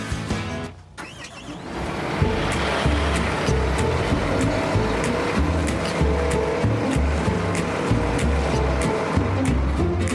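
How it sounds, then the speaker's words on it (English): A vehicle takes a slow lap around the BC39 dirt track at Indianapolis Motor Speedway, giving a steady, fairly loud engine and tire rumble with scattered light ticks throughout and no talking. "Reese can fix that for me, but let's go out and take a lap, a slow lap, around this track here at the Indianapolis Motor Speedway."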